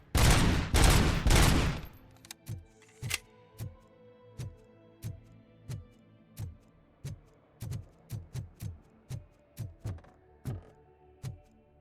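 Gunfire in RoboCop: Rogue City, opening with a loud rapid burst, then a steady series of single sharp shots spaced roughly half a second to a second apart, fairly close and alone without talk.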